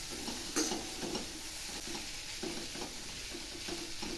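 Cluster beans and lentil usili pressed and mixed in a pan, with a soft sizzle and regular muffled spatula strokes about every half second, close but faint, with no voices.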